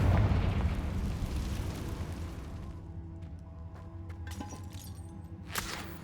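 A Confringo fire spell bursts in Hogwarts Legacy, a loud fiery blast with crackling debris that fades into a lingering rumble, followed by a brief sharp pop near the end.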